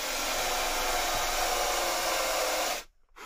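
A countersink bit in a drill bores into the wooden top plate of a speaker stand, a steady high-pitched whir held for nearly three seconds before cutting off sharply, close and alone.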